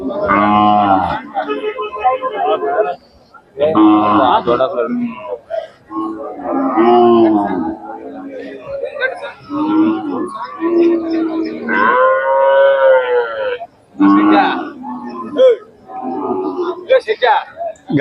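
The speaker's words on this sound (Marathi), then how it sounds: "गाय" Khillar cattle at a cow and bull market in Sangola, Solapur, give repeated loud, drawn-out moos in several bursts through the clip, mixed with nearby people talking.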